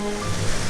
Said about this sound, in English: I think I can see the waterfall.